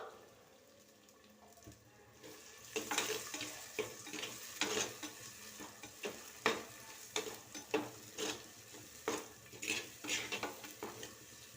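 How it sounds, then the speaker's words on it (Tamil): Chopped ripe tomatoes sauté in a pan for a South Indian fish curry, a low sizzle broken by repeated close spatula stirs and scrapes in an uneven rhythm. "தக்காளி நல்லா வதங்கட்டும்."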